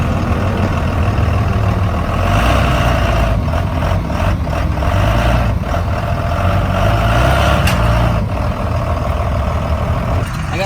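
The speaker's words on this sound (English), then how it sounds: "Spur of the moment, we're dynoing my Cummins." A Ford F350 pickup with a Cummins diesel engine runs on a dyno, giving a loud, heavy, low rumble that holds steady for the whole stretch, with a few brief sharp hisses over it.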